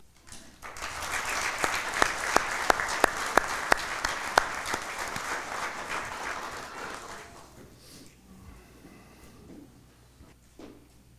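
Audience applause at a Chain of Survival awards ceremony honoring medics, a crowd clapping loudly with a few sharp close claps, then fading out toward the end.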